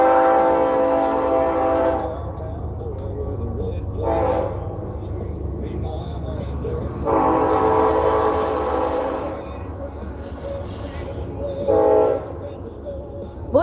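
A nearby train sounds its horn in several long, loud blasts over a constant rumble of rolling cars, with the last horn note short and sharp.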